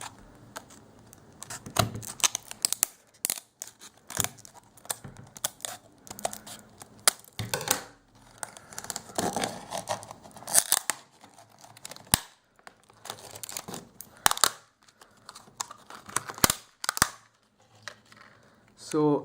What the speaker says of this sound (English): Today we'll be unboxing the Supreme Sound Ink by Skullcandy earphones.